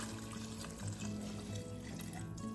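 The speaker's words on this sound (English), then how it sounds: "All right, so add the water." Water poured into a pot of lentils, a faint, steady splashing stream over background hum, continuous for a couple of seconds.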